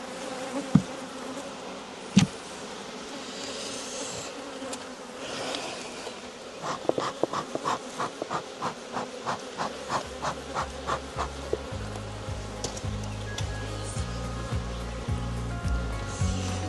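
Irritated honey bees buzz around an opened hive box, a steady swarm hum close by with individual bees droning past and a few knocks and scrapes of handling the box, no talking.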